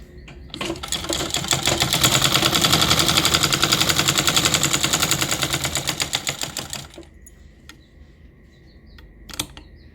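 Sewing machine stitching with a loose bottom thread fault, a fast even rattling hum of needle strokes that starts abruptly, runs about six seconds and stops, followed by quiet and a couple of faint clicks.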